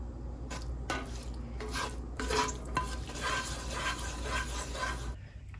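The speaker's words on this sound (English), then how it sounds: "And we're just gonna mix well." Pasta tossed with black pepper and salt, with repeated scraping stirs and soft clinks of a utensil against the pot, close and moderately quiet, no talking.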